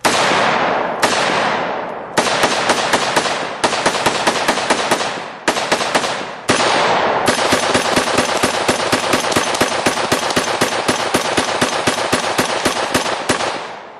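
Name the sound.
gunfire recorded at a shooting range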